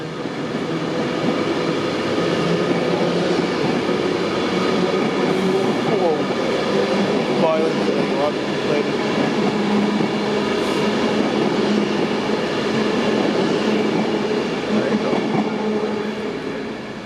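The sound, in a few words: train passing at Preston station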